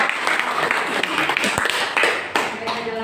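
A classroom group claps in sustained, dense applause lasting a few seconds, loud and close, with scattered voices mixed in.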